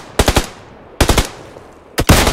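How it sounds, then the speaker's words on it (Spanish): Automatic gunfire in PUBG Lite, three loud, close bursts of rapid shots about a second apart, separated by short quiet gaps. "están disparando de allá"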